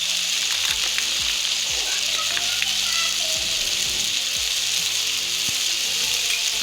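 Chana dal with spices being stirred in a hot pan, a loud bright sizzle running throughout with repeated scraping knocks of the spoon, while faint voices talk in the background.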